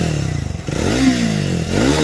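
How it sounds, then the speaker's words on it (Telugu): A Speed 400 motorcycle's exhaust blips and revs close by, a choppy idle giving way to a rising then falling rev sweep and a second climb at the end. "ఒకసారి ఎగ్జాస్ట్ సౌండ్ వినండి గాయ్స్"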